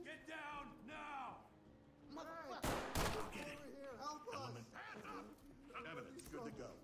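Gunfire from the tactical shooter game Ready or Not, as a suspect fires at a civilian: one sharp, loud burst stands out briefly amid raised voices and background game music, with speech running through most of the moment.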